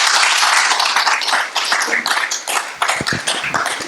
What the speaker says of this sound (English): Can we have an applaud?